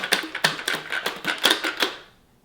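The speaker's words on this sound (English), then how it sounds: "I apologize for the key clicking." Bassoon keys clatter in a quick irregular run of sharp mechanical clicks, close and fairly loud, with no talking over them, fading out at the end.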